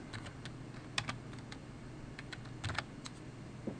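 Typing on a computer keyboard during a software install, a steady run of quiet, close key clicks with a few louder taps over a low room hum.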